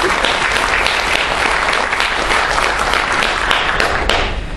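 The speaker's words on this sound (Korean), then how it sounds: "오늘 김대시 사무처장님이 끝까지 자리를 해주신 데 대해서 여러분 박수 한번 크게 한번 좀 주시겠습니다." Sustained applause from an audience at a Korean policy forum on North Korean denuclearization and economic cooperation, dense and steady, filling the hall for several seconds without a break.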